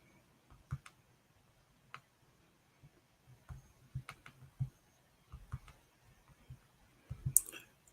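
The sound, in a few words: typing on a computer keyboard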